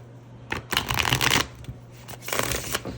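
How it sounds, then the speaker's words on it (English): Tarot cards being shuffled by hand, two bursts of riffling and flapping close by, with no voices. "Let's shuffle a couple times."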